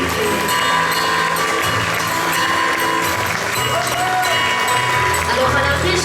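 Audience at a concert bursts into sustained, loud applause, a dense wall of clapping and crowd noise that continues steadily, with voices mixed in.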